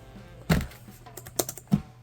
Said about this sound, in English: Here's the backlit keyboard.